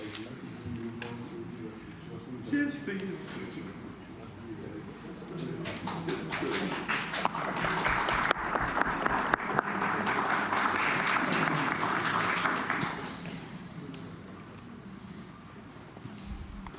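Ceremony audience applauding a finance award presented by a public accounts committee, clapping building and swelling loudly in the middle before tapering, with some thumps and background noise.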